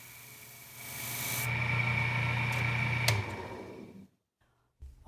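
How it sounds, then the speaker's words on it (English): A wooden pulley spins on a lathe while a sanding block is pressed against it, giving a steady rising whir and hiss that holds for a few seconds and then cuts off into near silence. "Tom has picked up a sanding block and he's applying a bit of pressure"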